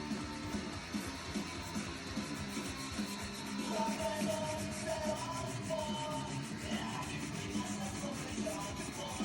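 Steady, continuous rubbing and scraping of sandpaper on a Telecaster-style guitar's wood, close up, with a faint rhythmic texture and no talking.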